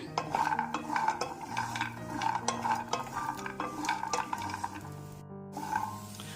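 Almonds roast in ghee in a pan over a low flame, with quiet repeated scraping and stirring, light clinks of a utensil against the pan, and a faint sizzle underneath, all soft and close with no voices.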